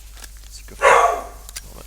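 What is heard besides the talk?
dog barking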